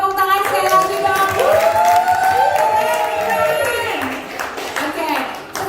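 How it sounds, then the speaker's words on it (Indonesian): Audience clapping and cheering at a combined church Christmas service, sustained applause under a loud sung or held vocal tone and crowd voices, close and full for several seconds. "tepuk tangan sekali lagi dong"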